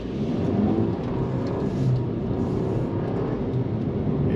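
A Mercedes-Benz CLA 250 with a 2.0L engine in sports mode and automatic, driven down a twisty road, makes a steady close engine drone mixed with road and wind roar that swells slightly at times.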